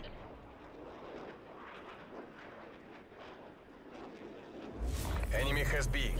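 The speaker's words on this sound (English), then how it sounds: "Counter spy plane midway fuel check complete." A counter spy plane flying overhead in the video game Call of Duty Cold War, a distant airy engine drone under game effects that swells abruptly into a loud, close roar in the final second.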